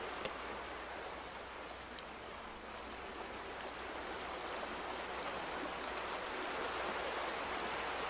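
Steady rushing water from a stream in The Vanishing of Ethan Carter video game, an even hiss with a faint low undertone, continuous and fairly soft throughout with no voices.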